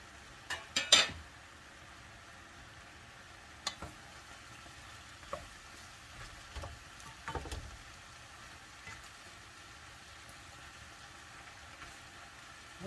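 Dry suki noodles with vegetables are stir-fried in a pan, a low sizzle broken by scattered scrapes and clinks of the utensil, busiest at the start and sparser later.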